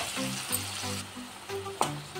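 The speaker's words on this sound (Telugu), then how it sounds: "ఇది పచ్చి వాసన పోయేదాకా ఫ్రై చేసుకోవాలి." Ginger garlic paste fries in a pan for a chicken curry, a soft, continuous sizzle heard close up, with a few clinks and scrapes as it gets stirred.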